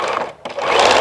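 Sewing machine running a short burst of back stitching through fabric for a motorhome bedside organiser, loud and close, with a brief pause before the motor picks up again and runs steadily.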